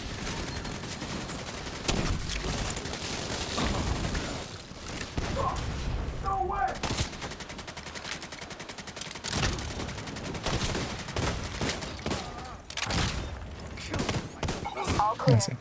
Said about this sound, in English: So we got in-sync fire going.